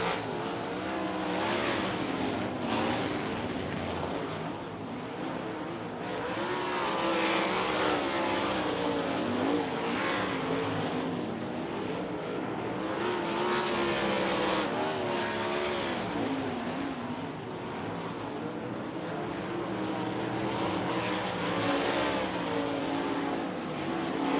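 Dirt track race cars, sprint cars at Tri-City during a High Limit Racing hot lap session, roar continuously with engine pitch rising and falling as the pack circles. The sound comes from a steady, fairly distant field of cars, with no talk over it.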